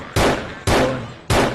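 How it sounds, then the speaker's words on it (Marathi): Three loud, sharp gunshots spaced roughly half a second apart, each with a quick decaying tail, from a zombie-shooting video game. "चार वेळा बसते गोळी एकदा रिलोड केलं"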